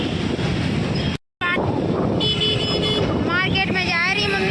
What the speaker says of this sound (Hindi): तो ये ट्रैफिक है